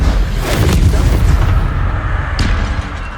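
Incendio fire spell going off in the video game Hogwarts Legacy, a loud rumbling blast with a sustained roar that fades after a few seconds.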